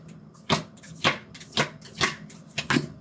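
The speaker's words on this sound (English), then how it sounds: "I'm gonna do this last shuffle." A deck of playing cards shuffled by hand, about six crisp riffling bursts in an even rhythm roughly half a second apart, close and alone.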